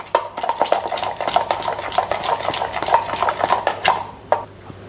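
Crushed garlic being mixed into sauces with a spoon, quick rhythmic clinking and scraping strokes against the bowl or pan, close and busy for about four seconds, then fading to a few scattered taps.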